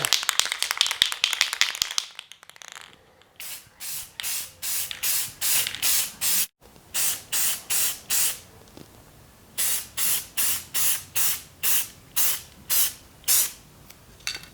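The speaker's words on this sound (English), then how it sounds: "spray it down with some flat sealer" An airbrush spraying flat sealer hisses in short repeated bursts, at first one long spray, then many evenly spaced puffs with brief pauses between them, close and fairly loud.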